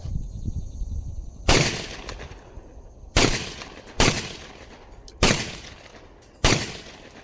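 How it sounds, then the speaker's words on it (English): A MAC 1014 shotgun fires Monarch high brass shells outdoors, five loud, sharp, close blasts spaced about one to one and a half seconds apart, each with a short ringing decay. "So I'm gonna get right down to it and start shooting."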